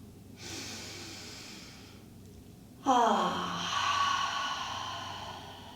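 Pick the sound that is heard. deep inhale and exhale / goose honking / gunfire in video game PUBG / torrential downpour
deep inhale and exhale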